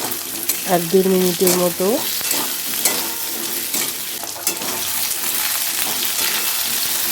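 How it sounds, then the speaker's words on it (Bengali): Potatoes fry in hot oil with fresh ginger, noisy broadband sizzle running steadily throughout, with scraping stir strokes and a voice speaking briefly near the start. "আলুটাকেও এখন আমি ভেজে নেব"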